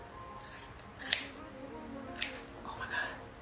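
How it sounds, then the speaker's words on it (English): Scissors snipping through the hair of a curly wig during a pixie bob restyle, two or three sharp close metallic cuts spaced about a second apart, with a faint voice briefly in the background. "I'm gonna cut it right here."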